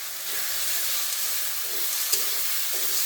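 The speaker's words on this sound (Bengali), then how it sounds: "আমি একটু অন্যরকম ভাবে আজকে মাংস ভুনা করতে আছি।" Beef frying in hot oil with whole spices like cinnamon, cardamom, cloves, mace and nutmeg for a Bangladeshi curry, a steady close hiss and sizzle with faint occasional stirring clicks.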